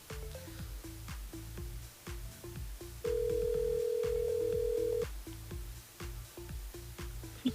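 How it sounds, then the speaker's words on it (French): A telephone rings in a regular pattern of short repeated bursts, with a steady held tone in the middle, heard on a live radio broadcast, fairly quiet and with no talking. "Pourquoi la sonnerie est faible, Bunza?"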